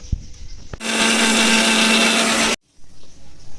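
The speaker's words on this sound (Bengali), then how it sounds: "নারিকেল কাঁচা লঙ্কা আর সেই ভেজে রাখা তিল এটা বেটে নেব" An electric blender grinds coconut, green chili, roasted white sesame and cashews into a paste, starting after a couple of knocks and roaring loudly for about two seconds before cutting off abruptly, with no voices.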